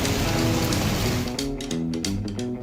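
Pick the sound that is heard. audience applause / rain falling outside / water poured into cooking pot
rain falling outside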